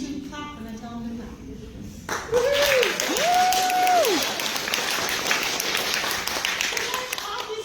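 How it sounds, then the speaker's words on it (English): Audience at a villain-themed fan convention panel breaks into clapping on cue, a broad dense patter starting abruptly and sustained for several seconds, with a few whoops and talk over it. "apparently I have minions who clap when I tell them to clap"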